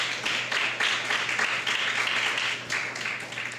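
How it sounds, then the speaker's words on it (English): An audience claps steadily at a book presentation to a college library, a dense, even wash of many hands holding at moderate level with a low steady hum beneath. "I want you to show your gratitude by giving them a round of applause."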